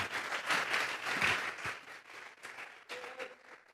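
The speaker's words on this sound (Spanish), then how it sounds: "Vamos a regalarle ofrenda de palmas al Dios de la gloria." A church congregation applauds together during a worship service, a dense, fairly close round of clapping that swells and then thins out over a few seconds.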